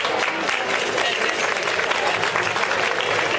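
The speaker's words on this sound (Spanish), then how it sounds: "Un aplauso para ella." An audience at a PechaKucha night applauds a speaker being introduced, a loud, dense, continuous wash of clapping that holds steady throughout with some crowd noise mixed in.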